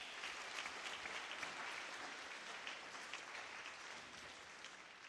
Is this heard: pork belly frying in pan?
no